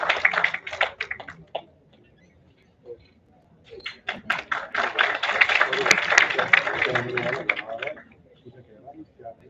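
An audience at a national seminar applauds in bursts of clapping, with a short lull between them, mixed with some voices.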